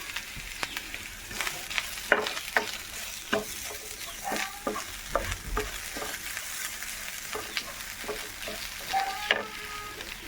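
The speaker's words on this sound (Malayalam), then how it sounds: "ഇനി ഇതൊന്ന് ഇളക്കി കൊടുക്കാം നമുക്ക്." Coconut, fennel and black pepper fry in hot oil in a pan while a spoon stirs them, giving a steady close sizzle broken by repeated scraping clinks through the whole stretch, with no talk.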